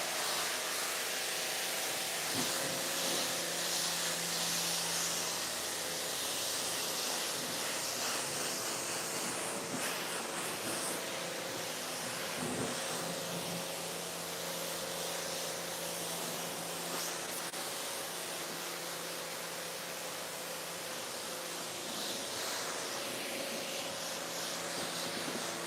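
Water spray rinsing a surface, a continuous broad hiss and splashing rush that stays steady throughout, close and uninterrupted, with no voices.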